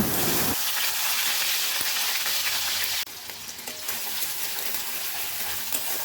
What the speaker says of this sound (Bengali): এবার মাছ ভাজার তেলেই দিয়ে দেব বেটে রাখা মশলাটা